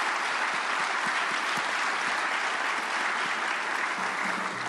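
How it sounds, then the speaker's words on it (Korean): Church congregation at a Korean prayer service for peaceful reunification gives sustained, dense applause welcoming a pastor to the pulpit, steady and fairly loud throughout with no pauses. "우리 오종설 목사님 박수로 환영하겠습니다."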